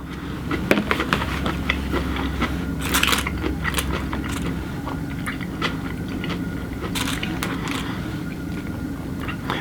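Biting and chewing Korean lunch food, close crunchy bites and moist chewing in irregular bursts over a steady low background hum, with no talking.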